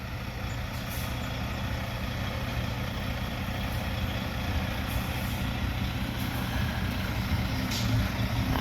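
A truck rumbles steadily while it manoeuvres slowly past a tree, its engine a constant low drone at moderate distance. Occasional faint high hisses sound over it, and nobody talks.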